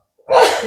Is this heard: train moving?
no